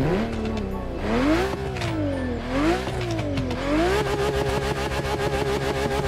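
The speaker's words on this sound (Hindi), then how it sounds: "एवेंटाडोर को तो देखो इसका आपको साउंड सुनाता रुक जाओ अब गाड़ी का साउंड फुल है ये सुनो" Lamborghini Aventador engine in The Crew Motorfest racing game, revving up and down in rising and falling sweeps, then settling into a fast rapid pulsing near the end, loud and alone.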